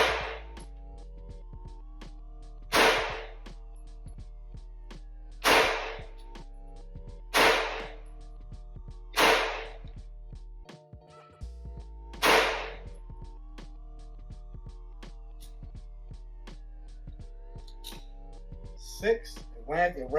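A Glock 19C pistol fires at an outdoor shooting range, about eight sharp, loud single shots spaced a few seconds apart, with faint talk between them.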